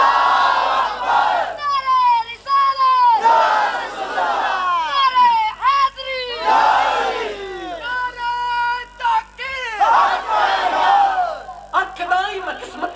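Crowd at a devotional naat gathering shouting loud chanted responses to religious slogans, several bursts of massed voices rising and falling, each answering call breaking off into brief pauses.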